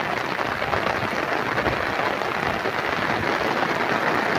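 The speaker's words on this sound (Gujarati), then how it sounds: "બનાસકાંઠા જિલ્લામાં ભારેથી અતિ ભારે વરસાદ" Heavy rain pours down steadily in Banaskantha district in Gujarat, a dense, loud, continuous hiss of drops on surfaces that holds throughout with no voices.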